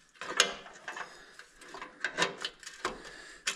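A wrench turns a bolt on a 36-foot boat under repair, giving a series of quiet, close ratcheting clicks and metallic ticks in an irregular rhythm, with no speech.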